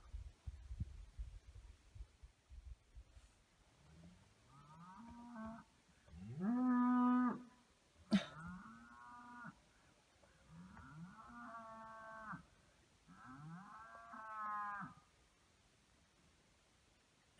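Several cattle moo in the evening at Kodachrome Basin, Utah, about five drawn-out calls spaced across the stretch, moderately near, with a sharp knock partway through and a quiet outdoor background.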